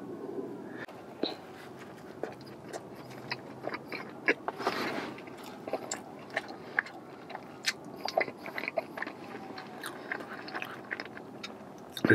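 Someone bites and chews a Reese's peanut butter donut from Friendly Donuts up close, with soft wet crunches and smacking in an irregular rhythm throughout, fairly quiet.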